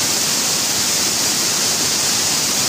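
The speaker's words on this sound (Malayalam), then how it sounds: "ഇതിൻ്റെ ഈ വെള്ളച്ചാട്ടത്തിൻ്റെ നല്ല വ്യൂ കിട്ടും." Kalarandi waterfall near Kondotty in Malappuram, Kerala, pours in a constant, dense hiss of falling water, steady and fairly loud, with no voices.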